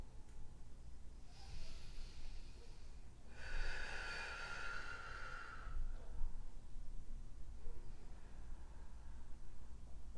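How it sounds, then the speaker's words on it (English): Slow, deep breathing during a yoga flow: two long, soft breaths, the second louder, a near, airy rush over quiet room tone with no talking. "Inviting in 3 long rounds of breath here. Very slow, very gentle."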